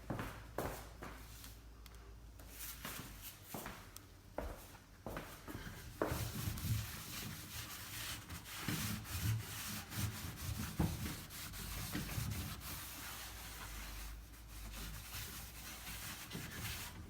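A rag wipes residue off an old metal chest being stripped, producing soft repeated rubbing strokes, faint and close, continuing steadily with no talk.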